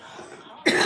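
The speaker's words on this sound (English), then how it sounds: "I've got this awful cough" A person coughs once near the microphone, a sudden harsh burst at the end after a quiet background hum.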